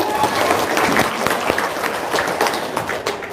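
Audience applause at an Indonesian religious talk, a steady wash of clapping from a crowd with some voices mixed in, filling the whole stretch at even loudness.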